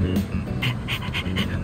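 A stray dog in the Persona 3 Reload video game pants in quick, rhythmic breaths, close and moderately loud for under two seconds, with no talking over it.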